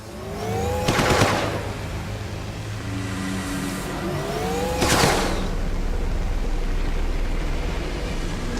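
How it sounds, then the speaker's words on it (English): Two sharp gunshots ring out in a tense video-game standoff, several seconds apart, each a loud burst with a decaying tail over a steady engine-like hum and background score. "A warning shot"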